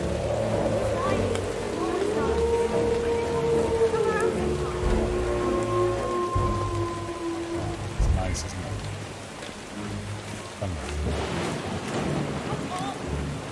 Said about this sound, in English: Or you can go to full-on storm and you get automatic thunder.